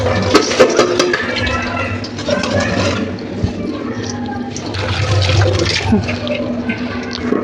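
Water pours and splashes steadily through Indrayani rice into a sieve to drain it, a gushing, draining sound with a few clinks, close and fairly loud throughout.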